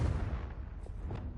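A Confringo fire spell blasts during a wizard's chess game in Hogwarts Legacy, giving a heavy, rumbling explosive roar that stays loud and dense throughout.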